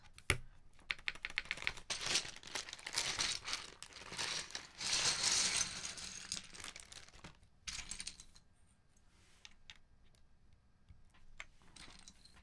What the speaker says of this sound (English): now we have some keycaps to mount